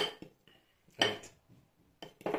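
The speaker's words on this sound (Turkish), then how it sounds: "Şöyle iyice karıştırıyorum." Metal spoon stirring a homemade remedy mixture in a pot, a few sparse clinks and scrapes against the pot with quiet pauses between, close and faint.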